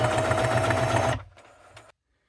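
Sewing machine stitching appliqué fabric, a loud rapid rhythmic whir for about a second before it stops, followed by a few faint clicks and handling noises.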